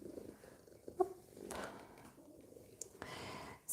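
A cat purrs softly and steadily close by, a low continuous rumble beneath quiet page handling and a faint whispered voice.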